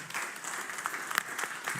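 An audience at the Fórum Social in Porto applauds, giving a short burst of scattered clapping at moderate distance with a few sharper individual claps.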